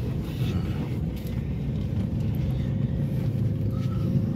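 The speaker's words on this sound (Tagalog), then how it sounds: "Oh, medyo traffic, hindi medyo talagang traffic." Road traffic near the Cebu-Cordova Link Expressway, a steady loud low rumble of engines and tires heard from inside a moving car, with faint wind noise and no clear individual pass-bys.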